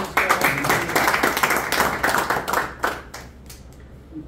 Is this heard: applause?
yes